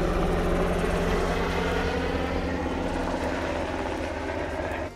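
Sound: helicopter flying over

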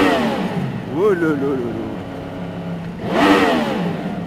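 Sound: Yamaha MT-10 SP motorcycle revving against rev limiter

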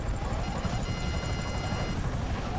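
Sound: helicopter in a video game

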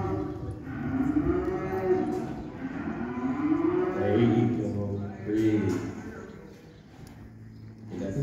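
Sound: cow mooing at ranch cutting clinic

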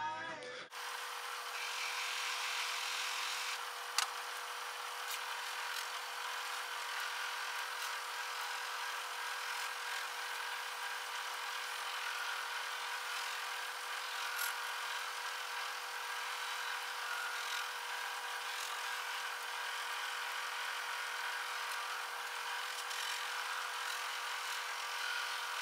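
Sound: buffing wheel polishing a finished guitar wood piece with compound

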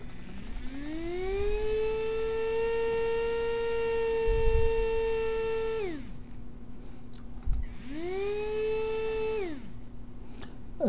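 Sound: DC motor running and changing direction, ESP8266-controlled

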